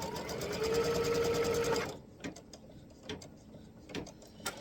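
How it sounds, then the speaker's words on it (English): An embroidery machine stitches down a quilt block piece in a 5x7 hoop, its steady rapid mechanical whirring loud and close for about two seconds before stopping, leaving faint clicks and small handling taps. "we're going to stitch it down"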